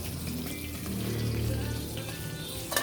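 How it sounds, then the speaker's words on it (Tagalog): Fish frying in a pan at home, a steady watery hiss and crackle at close range with a low hum underneath and a brief clatter near the end, no speech. "Nagprito pa ko og kanang kuan isda."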